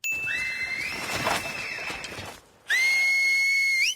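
A shrill whistle blows in long sustained tones, drops out briefly, then returns with a loud, piercing blast at close range.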